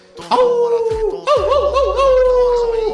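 People in a public hearing howl together in imitation of dogs, long wavering voiced howls in two bursts with overlapping voices and some laughter-like breaks.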